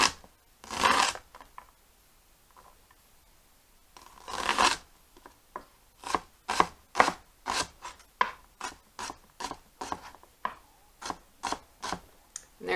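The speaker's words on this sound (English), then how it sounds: "slicing the onion in half at the root, making cuts perpendicular to the root, but keeping the root intact" A knife slices and dices an onion on a cutting board, two longer cuts followed by a quick, steady run of about fifteen sharp chopping taps, close and clear with no talking.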